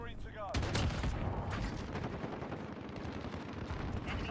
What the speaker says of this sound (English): You just hear this though, like you just hear him that in the background. Just the constant PKM fire.